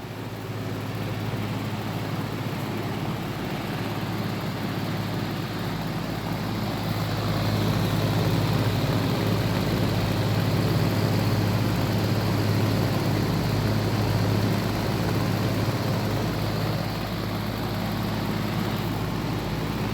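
A Sears Signature MW-0345 microwave oven runs on high, giving a steady loud hum with a strong low drone and constant broadband whir, unchanging for the full length with no talking.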